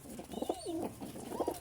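Pigeons coo softly and faintly in a short, gentle burst of low, rolling calls.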